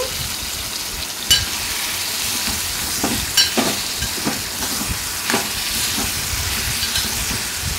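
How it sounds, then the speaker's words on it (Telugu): Plantain pieces stirred into a tomato gravy curry in a pan give off a steady close sizzle, with scattered scrapes and clacks of the spoon over the continuous frying hiss. "ఈ టమాటా గ్రేవీ మొత్తం కూడా ఈ అరటికాయ ముక్కలకి బాగా పట్టే విధంగా కలుపుకోవాలండి"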